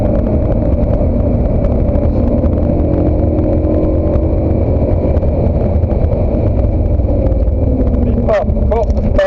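A car engine accelerates hard around the Spa-Francorchamps circuit, a loud, close, sustained droning roar from the cabin with a voice speaking over it and a quick rising pitch sweep near the end.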